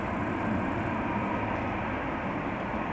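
An EasyJet Airbus A319 jet airliner departs Amsterdam Schiphol, a steady loud broadband engine roar close by, with no voices.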